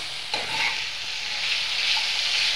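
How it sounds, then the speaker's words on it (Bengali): Chopped tomatoes with salt sizzle and hiss in a pan with onions as a spoon stirs them, a steady close frying sound with a few scraping clinks of the utensil and no voices. "টমেটোটা দিয়ে নাড়তে থাকবো"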